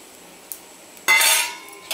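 Chili powder stirred into roasted black masala in a pan for a spicy mutton curry, heard as a couple of sharp metal-on-pan clinks and a brief louder scraping burst, close and alone with no talking.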